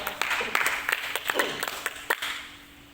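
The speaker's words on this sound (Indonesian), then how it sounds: "Tepuk tangan dulu buat Tuhan" A church congregation gives a short burst of scattered clapping, with sharp individual claps at moderate distance fading out toward the end.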